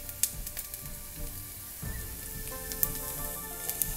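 Onion drops into hot cooking oil for fried rice, and a quiet crackling sizzle starts partway through, with sharp pops and a steady hiss that continue to the end.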